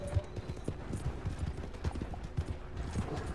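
Horse hooves clip-clop steadily in the Western game Red Dead Online, a fairly close, rhythmic trot of repeated soft thuds over a busy ambient background.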